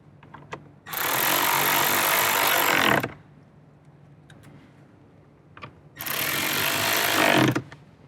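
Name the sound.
driving screws back in to secure car radio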